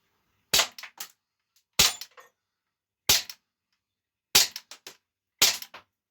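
A Hellboy M4 carbine CO2 airgun, 4.5mm, fires five crisp snapping shots at irregular intervals of about a second, each followed by a short rattling tail, loud and close with silence between.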